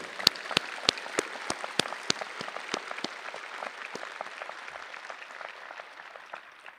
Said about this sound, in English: you most certainly deserve a very, very serious round of applause from all of us here to celebrate with you